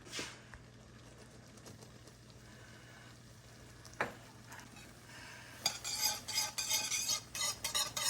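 A spoon stirs a cream cheese syrup with vanilla and baking soda in a small pot. Soft, scattered clinks come first, then denser scraping and bubbling in the final seconds.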